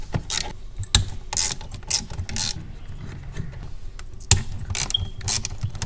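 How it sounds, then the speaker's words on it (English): Ratcheting clicks from a tool unscrewing Torx screws on a front bezel, heard in short, close bursts with gaps between turns. "we're gonna remove these Torx screws here"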